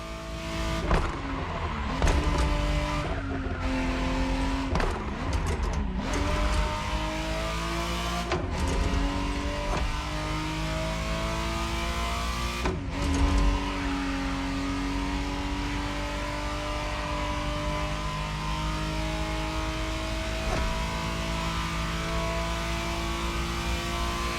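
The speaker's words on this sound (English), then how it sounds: "the exact model Motorfest has put in your hands is the 1991 re-engineered version of the Testarossa" A 1991 re-engineered Ferrari Testarossa driving in the racing game The Crew Motorfest: sustained engine drone with repeated revving rises and drops as gears shift, loud and continuous with no talk.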